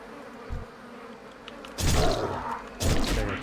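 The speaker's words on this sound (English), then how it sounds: "Another wasp, wasp." Brief buzzing bursts from a wasp enemy in Classic World of Warcraft, two loud broadband swells about a second apart, with a soft thud earlier and no talk.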